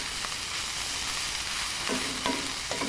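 A spoon stirring buffalo chicken dip ingredients with garlic powder in a bowl, soft wet scraping and squelching that ends in a few distinct clinks and strokes near the end.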